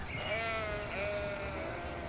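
Sheep bleat continuously in a Cities: Skylines farm area, several overlapping wavering calls forming a steady moderately loud chorus over ambient game background noise.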